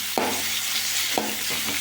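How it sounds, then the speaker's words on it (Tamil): Tomato and curry leaves sauté in a hot pan, giving a steady soft sizzle with two sharp stirring scrapes about a second apart, close and alone. "தக்காளி பழம் கூட கருவேப்பிலையும் சேர்த்து போட்டுக்காங்க. கொஞ்சம் நேரம் வதக்கணும்."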